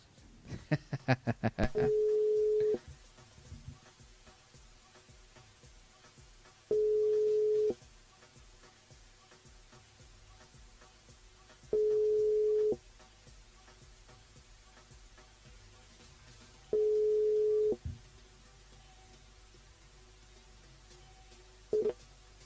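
A telephone busy signal sounds during an attempt to call back a caller on a live radio broadcast, with four steady one-second tones spaced about five seconds apart after a brief opening burst, clear against faint background noise.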